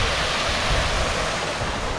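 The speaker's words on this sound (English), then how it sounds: "And a waterfall." Waterfall at a lagoon swimming area of a turtle center on Grand Cayman, a steady, loud broadband rush of falling water filling the whole clip without pause, close by, with no voices.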